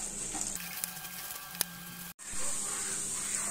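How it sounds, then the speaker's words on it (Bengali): Gobindo Bhog rice being stir-fried in a pan, a steady close sizzle and hiss with a brief scrape and a short break midway before the frying resumes. "চালটা একটু আমরা নেড়ে চেড়ে নেব।"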